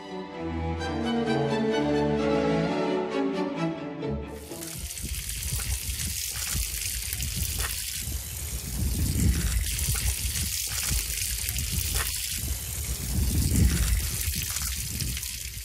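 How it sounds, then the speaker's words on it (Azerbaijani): A restored spring at the Mehmandarov estate in Shusha runs with a steady trickling, splashing flow of water, continuous and moderately close, following a few seconds of music at the start. "Mehmandarovların malikanə kompleksinə daxil olan bulaq istifadəyə verilib"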